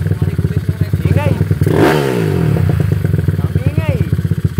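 A motorcycle with a Razor exhaust pipe, recently refreshed after a valve problem, revs loudly and close by, with a sharp surge and fall in engine speed midway amid a steady rumbling idle.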